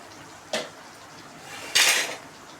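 A spoon knocks against a cooking pot while chana masala is stirred, two brief metallic clinks, the second louder and more scraping, close up and otherwise quiet.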